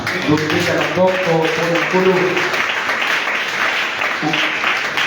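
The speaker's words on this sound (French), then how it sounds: "Acclamons très fort pour le Seigneur." A church congregation applauds for the Lord, a dense steady wash of clapping from many hands filling the room, with voices speaking and calling out underneath.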